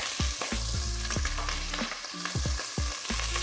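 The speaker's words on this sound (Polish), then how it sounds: "Wrzucamy na rozgrzaną oliwę." Diced rice sizzles and crackles loudly in hot olive oil, with repeated sharp stirring clatters of a utensil in the pan over a steady frying hiss.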